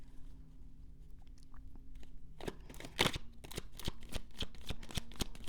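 Tarot cards are shuffled and drawn close up. After a quiet start with a few soft handling sounds, a rapid run of crisp riffling clicks follows.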